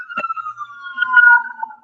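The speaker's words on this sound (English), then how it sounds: "We got all those sirens going on and stuff like that." A wailing emergency siren sweeps steadily through the street in a downtown neighbourhood, loud and close, its tone gliding slowly downward as a vehicle passes, with no talking.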